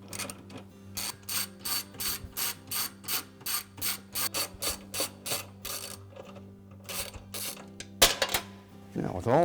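A ratchet wrench removes bolts from a Whirlpool washer clutch assembly, giving a long run of regular, close clicking strokes, then a short pause and some scraping as the parts come free.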